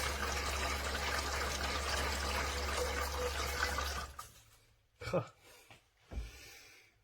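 Theo Klein 9213 Bosch toy washing machine draining water, a steady rush of flowing water that stops after about four seconds, followed by a few short splashes and clunks.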